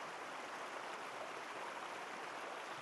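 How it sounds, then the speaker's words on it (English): A creek flowing in a steady, even rush of water, soft and continuous with no breaks, heard alone without voices. "And take in the sound of the creek"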